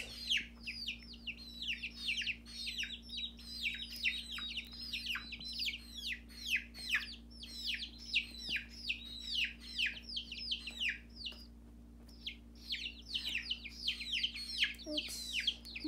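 Baby chicks peep in rapid, repeated high chirps and soft clucks close by, a near-continuous stream of small calls over a low steady hum indoors, with a brief lull partway through.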